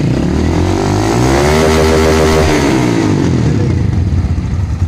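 A fuel-injected Honda Titan motorcycle engine in neutral is revved slowly and steadily upward, its loud, close exhaust note climbing in pitch, holding near the top, then easing back down toward idle.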